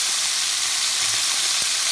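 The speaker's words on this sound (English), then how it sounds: "So I'm gonna let that fry a little bit" Salted codfish frying in a pan gives a steady, loud, continuous sizzle with hissing steam and no pauses or talk.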